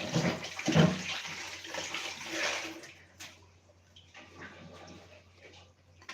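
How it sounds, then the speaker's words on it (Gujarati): Running water from a kitchen tap as hands are washed during a home cooking session for medu vada and chutney, a broad steady splash louder at the start and easing off, with no talk. "હાથ ધોઈ લેશું."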